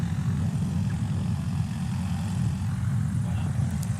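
Hartzell propeller on Jeff Pohl's STOL aircraft at a Sodbusters STOL competition, a steady low droning hum with broadband wind-like noise, continuous and fairly loud throughout with no voices.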